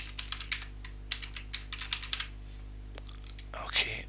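A password is tapped out on a computer keyboard in quick, uneven bursts of close, crisp keystrokes. A short pause follows, then a brief scuffle or voice-like sound.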